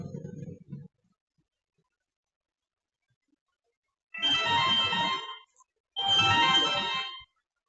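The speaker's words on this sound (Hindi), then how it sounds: "ये कॉल आ रही है, ले लीजिए।" A phone ringtone plays in two loud bursts, each about a second long, with a short gap between them. A brief stretch of talk comes first, followed by silence.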